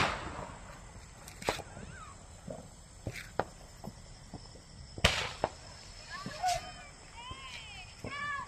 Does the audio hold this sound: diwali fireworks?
yes